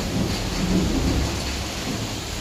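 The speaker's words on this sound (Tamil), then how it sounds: "செம்மையாக வானம் இடி இருக்குது ஃப்ரெண்ட்ஸ்" A low rumble of thunder rolls beneath steady rainfall, a heavy hiss of rain with the deep boom swelling and fading.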